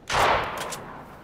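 A single short burst of assault rifle gunfire in the Fortnite video game, a sharp loud crack that fades out quickly, with no talking.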